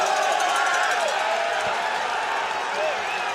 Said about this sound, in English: the crowd go crazy